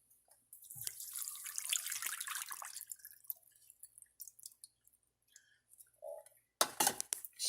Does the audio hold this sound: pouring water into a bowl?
yes